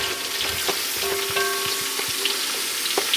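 Carrots and onions sizzle in a pan for an old-fashioned Italian spaghetti dinner, a steady close crackle broken by a few stirring clicks and scrapes.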